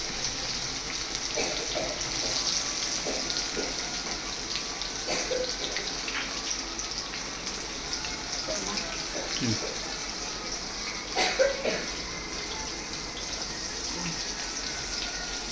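Banana flower vadas fry in hot oil, giving a steady, even hiss that runs for the whole stretch with a few brief crackles and one louder pop burst near the end.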